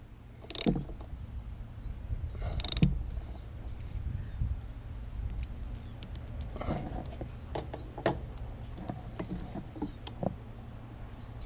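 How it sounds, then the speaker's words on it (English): A ratchet snugs down a spark plug on a 2019 Heritage 114 motorcycle, giving faint, scattered metallic clicks and a couple of sharper knocks over a low background hum in a quiet space. "so now we'll put the ratchet on it"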